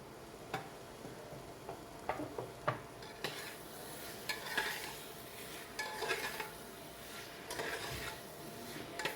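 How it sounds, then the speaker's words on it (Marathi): Tomatoes stirred and sautéed in a pan for green coriander-mint pulao, quiet and close, with soft sizzling and intermittent spatula scrapes and taps against the metal, no talking. "टोमॅटो टाकून परतून घेऊया थोडासा."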